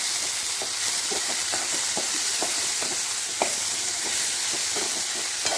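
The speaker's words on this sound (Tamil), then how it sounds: "போட்டு தக்காளி நல்லா வதங்கட்டும்." Tomato sautéing in a pan for a village-style mutton gravy, giving a continuous loud sizzle and hiss with repeated scraping stirs at an irregular rhythm, close up and without any talk.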